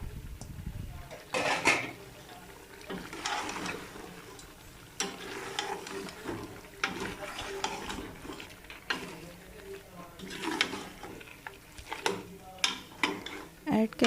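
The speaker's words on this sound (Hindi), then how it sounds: "अब हम इसमें प्याज ऐड करेंगे" Onions are tipped into a pot of fried beef stew masala and stirred, bringing clanking of a spoon against the pot and a soft sizzle in uneven bursts, close by.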